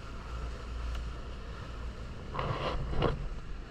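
A tour boat's engine drones on an island-hopping trip around El Nido, a low, steady rumble under wind and water rush, with a couple of brief louder splashing bursts near the end.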